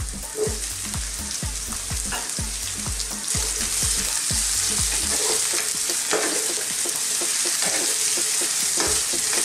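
Boiled beef dropped into a hot pan, where it bursts into a loud, steady sizzle with repeated scraping stirs and clanks of a utensil in the first half, then continuous frying with no voices.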